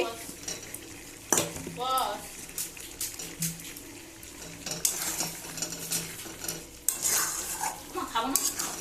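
Potatoes being added to a pot of meat curry, with loud clattering of pot and spoon, stirring scrapes and a faint sizzle, close up and uneven.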